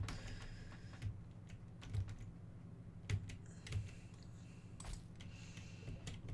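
Faint, sparse typing on a computer keyboard that is acting up, heard during play of the game Forager: scattered soft key clacks with a few heavier thumps at irregular intervals, quiet and without talking.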